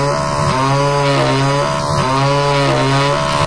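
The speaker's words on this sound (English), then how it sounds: "I'm going to chainsaw my desktop." A chainsaw sound effect from a desktop prank app: a buzzing chainsaw revs up and down twice over a steady whining drone, loud and close, with a few brief high chirps on top.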